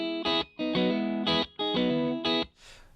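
Electric guitar with its volume knob turned down, fitted with a treble bleed capacitor, playing a few bright, clean chords, each ringing briefly and then cut off, with a final strum left to fade.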